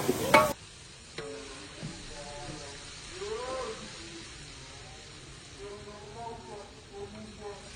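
Special fried rice sizzles steadily in a pan with a broad, continuous hiss, while voices talk over the cooking throughout.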